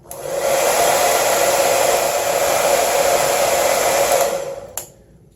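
A Vaslon 1875W infrared professional hair dryer blows steadily and loudly on a higher heat and power setting for about four seconds, then clicks off and its whoosh quickly dies away to near silence.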